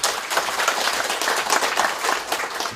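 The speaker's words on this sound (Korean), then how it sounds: "힘찬 박수로 모시겠습니다." Audience applause welcoming a university business professor to the podium at a Korean panel debate, a dense steady patter of many hands clapping at even loudness throughout, no voices over it.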